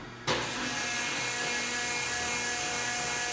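On a LeBlond Regal 15x32 metal lathe, a sharp mechanical clunk as the gears shift, then a steady running whir with a faint metallic whine, close and loud, with no talk.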